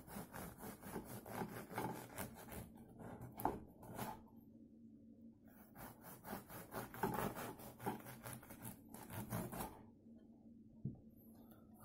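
A serrated bread knife saws through a freshly baked baguette in bursts of rhythmic, crackly rasping strokes. The cutting is close and fairly quiet, with brief pauses between runs of slicing.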